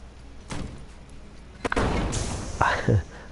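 An M1 rifle fires in the video game Enter the Gungeon with a few sharp, loud bangs at uneven intervals, each trailing into a short rumble, mixed with scattered game effects.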